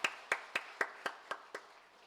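A church congregation at a Sunday worship service claps in slow, even unison, seven distinct claps spaced roughly a quarter second apart, moderately quiet and with no talking.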